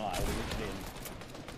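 Rapid gunfire from an online shooter game, a dense, continuous crackle of shots and mechanical clatter filling the whole moment at moderate loudness.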